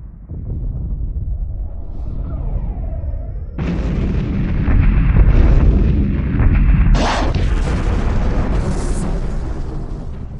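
Explosions and weapons fire erupt in a space ship battle from a Homeworld-style strategy game, with deep booms building into a loud, sustained roar and several sharp bursts on top.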